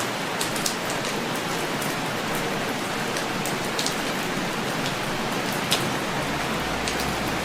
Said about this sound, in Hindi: अचानक आकाश से वर्षा होने लगी